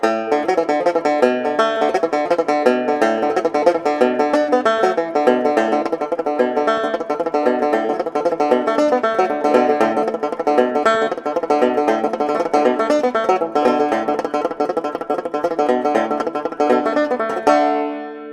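Fast, bright banjo picking with rapid triplet ornaments in an Irish music style, steady and busy throughout, stopping abruptly near the end.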